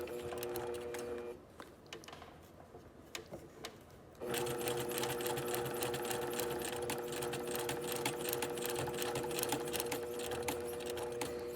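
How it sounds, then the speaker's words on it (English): A sewing machine edge stitching along folded fabric, running in a fast steady mechanical whir, briefly pausing to a quieter stop-start patter before resuming at full steady speed, close and alone. "now I'm at the perfect spacing to continue edge stitching all the way to the top"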